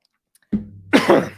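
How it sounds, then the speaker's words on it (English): A person clears their throat up close, a short rough rasp followed by a louder gravelly push. "clear my throat"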